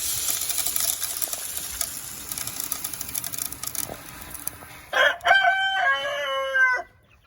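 A rooster crows loudly near the end, a long drawn-out call following a stretch of faint background clucking and rustling as chickens are given feed on a Florida farm.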